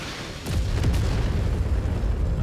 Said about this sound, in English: That was a lot of artillery.